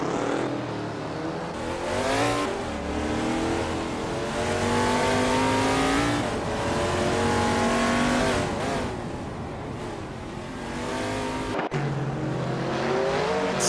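Race cars in a racing video game accelerate along a track, engines revving steadily with rising and falling pitch sweeps as gears change, loud and continuous throughout with a brief dip near the end.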